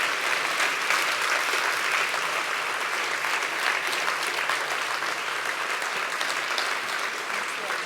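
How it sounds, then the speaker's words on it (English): A large audience at the ARIA 2025 awards ceremony applauds the finalists, with loud, sustained clapping that stays dense and even throughout. "perhaps a round of applause for our finalists there"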